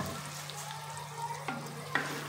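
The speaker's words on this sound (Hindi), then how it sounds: "इसको हम तड़का लगाएंगे" Oil tempering for palak chana masala sizzles and crackles steadily in a pan, with a couple of sharp clinks partway through.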